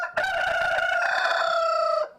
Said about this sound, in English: You cannot have a rooster that crows.